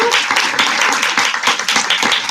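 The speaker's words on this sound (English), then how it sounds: "give yourselves a huge round of applause" Audience applause with dense, steady clapping from many hands, loud and close, filling the whole stretch without a break.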